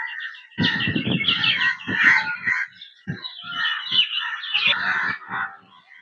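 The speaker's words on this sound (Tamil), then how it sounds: "ஃபுல்லா பறவைகளோட சத்தம்." Birds call loudly and repeatedly in the evening near an Ayyanar temple in Trichy, harsh caws and chattering calls overlapping in quick bursts with brief pauses.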